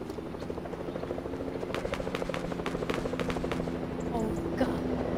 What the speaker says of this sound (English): Stop with that chopper.